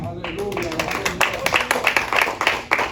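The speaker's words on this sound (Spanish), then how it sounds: "Dele un fuerte aplauso al Señor" A church congregation claps for the Lord during a Spanish-language service, a loose run of hand claps building into rhythmic applause, close and moderately loud, with voices speaking over the start.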